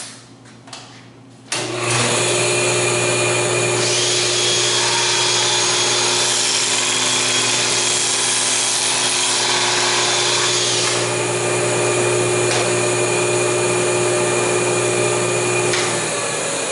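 Table saw fitted with a barrel taper tool cutting a taper, the motor starting up after a quiet moment and whining loudly and steadily as the blade cuts for several seconds.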